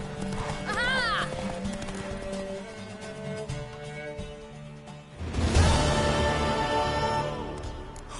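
A horse gallops in The Witcher 3: Wild Hunt on PS4, with loud, close hoofbeats under game music and a rider's voice, and the sound swells sharply partway through.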